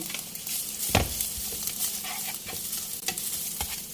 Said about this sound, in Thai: ปู้จะใส่ตัวชัยโป๊สับนะคะ ลงไปผัดด้วยค่ะ